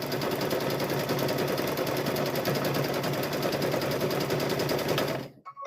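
A sewing machine quilts layers of a Halloween gnome wizard tote bag in one rapid, continuous stitching run, loud and close, stopping just before the end.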